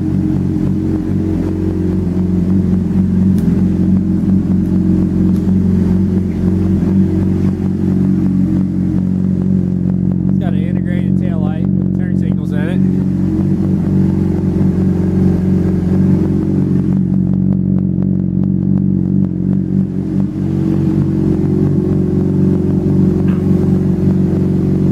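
A motorcycle with 15,875 miles on it idles steadily and continuously, a low rumbling engine drone with some mechanical clatter, close and loud throughout with no speech.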